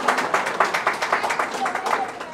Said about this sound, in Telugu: ఇప్పుడు వచ్చిన వాళ్ళకి కూడా చప్పట్లతో స్వాగతం పలకాలి